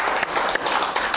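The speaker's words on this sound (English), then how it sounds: "Give him a hand clap this morning." A church congregation gives a round of hand clapping, a dense, loud wash of many hands continuing throughout the short span.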